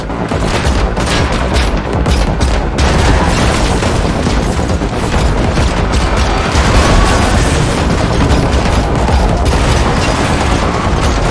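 Loud, nonstop gunfire erupts during a car chase in The Matrix Awakens, with rapid shots and booming impacts layered into a continuous, chaotic barrage.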